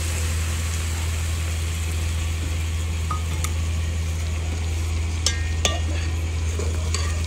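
Onions and spices stirred in a pan for a desi-style fish curry, giving a continuous sizzle with a low steady hum underneath, broken by a few sharp metallic clinks of the spoon near the end.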